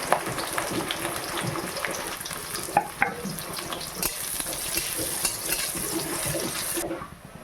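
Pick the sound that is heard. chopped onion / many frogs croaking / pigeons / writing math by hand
chopped onion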